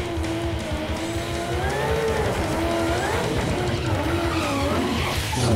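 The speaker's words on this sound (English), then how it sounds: "He's got a lot of wheel hop there." A drag racing car launches hard with wheel hop and squealing tires, a sustained screech and rumbling chatter that wavers in pitch, loud and continuous throughout.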